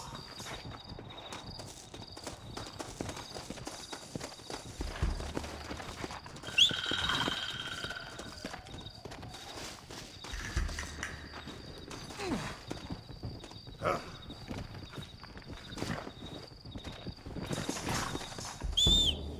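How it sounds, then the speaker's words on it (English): Horses in Red Dead Redemption clip-clop about at a walk with occasional whinnies, hooves thudding over a low ambient background. "Looks like Carlos left us some horses."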